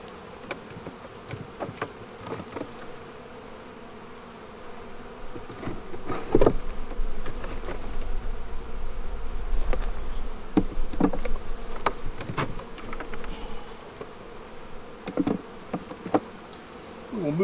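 Close, continuous buzzing of many honey bees on a hive frame of brood and nurse bees, swelling louder midway with occasional knocks and handling noises, no voices.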